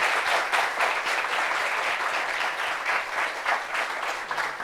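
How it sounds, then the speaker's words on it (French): A crowd keeps clapping for an arriving guest at a gathering, a thick continuous patter of many hands that stays loud and even, with a few stronger surges and no talking on top. "Applaudissements sérieux."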